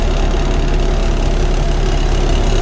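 Vehicle engine running steadily as the driver pulls out onto the road, a loud, close, continuous low rumble with no talking over it.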